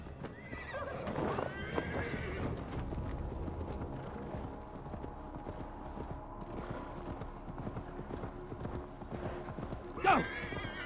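Steady clip-clop of video game horse hooves runs throughout, with a sharp whinny near the start and another loud neigh near the end.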